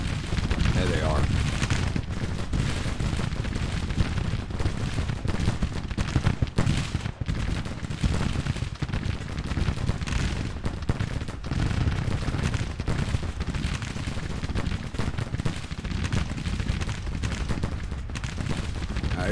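Civil War battle in a strategy game: a continuous roar of artillery barrage and massed musket gunfire, dense rumbling blasts layered without pause, with a voice talking over the din.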